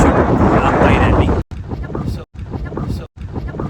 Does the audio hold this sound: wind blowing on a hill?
yes